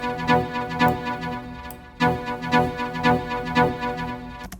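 Jungle drum and bass synth stabs built as a minor seventh chord in Phase Plant, played alone: bright, tonal chord hits repeating in a bouncy syncopated rhythm, close and clear with no voices.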